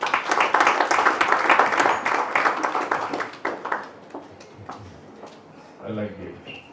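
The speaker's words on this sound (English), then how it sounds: "let's have a round of applause for Mr. Subhash Ghai." A crowd at a book launch claps in applause that fades out after a few seconds, then a quiet pause and a brief voice speaking.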